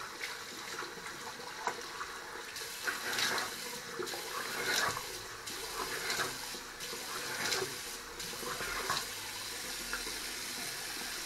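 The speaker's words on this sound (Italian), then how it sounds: "Intanto mi bagno il viso." Water splashes and trickles from a running tap into a sink while a man wets his face before a shave with a slanted-blade safety razor, soft uneven splashing throughout at close range, no talking.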